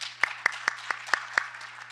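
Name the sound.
audience applause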